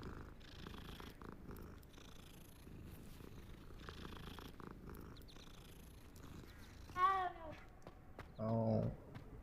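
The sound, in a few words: cat purring in Hogwarts Legacy video game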